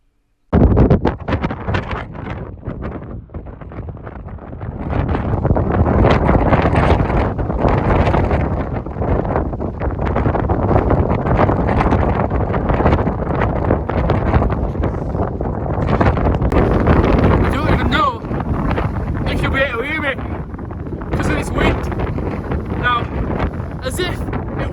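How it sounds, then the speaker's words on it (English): Strong wind buffets a steep hill incline in the Three Peaks area, roaring continuously and loudly against the microphone for the whole stretch. "This incline is steep, but this wind, it's just like pushing you back."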